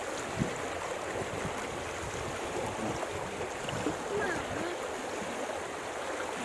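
Fast-flowing water rushes steadily through a small stream, a continuous broadband wash with faint splashes, heard close and fairly loud throughout.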